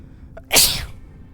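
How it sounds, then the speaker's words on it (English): A single sharp human sneeze, close and loud, with a brief intake just before the burst and a short fading tail, no other talk. "Sneeze."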